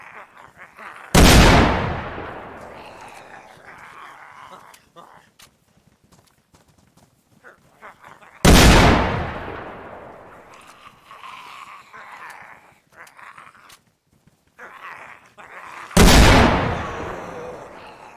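Three loud, sharp gunshots in the video game DayZ ring out several seconds apart, each with a long fading tail, over a quiet background of faint shuffling and movement.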